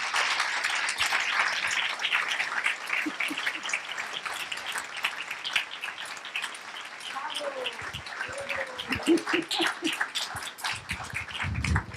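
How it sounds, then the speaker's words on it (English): An audience at a Singapore book launch on advocacy claps in a warm, dense round of applause that thins out as a speaker begins talking over the last of it. "A warm round of applause to Connie."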